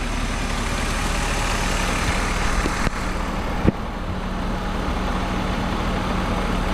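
A 1997 BMW 320i M-Sport Touring engine idles steadily at operating temperature with the bay open, giving a smooth continuous hum and one or two faint clicks.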